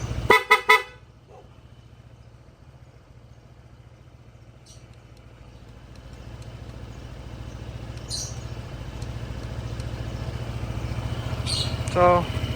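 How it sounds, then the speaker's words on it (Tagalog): Stock horn on a Honda ADV 160 scooter gives a few quick loud beeps at the start, then the engine idles steadily for the rest. "So yun yung stock na busina, hindi ko na pinatanggal para hindi masyadong naka-open yung pagkaalisan."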